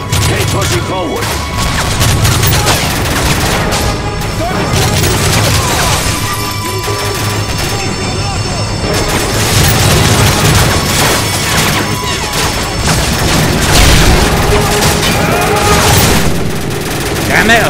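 A frag grenade blast and rattling gunfire in the game Call of Duty: Modern Warfare 3, a dense, loud barrage of bursts and booms running throughout, with shouted voices over the fighting.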